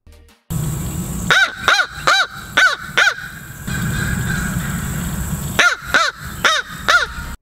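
Crows caw in clusters of harsh, repeated calls, several sharp caws close by in two bursts separated by a stretch of rustling background noise.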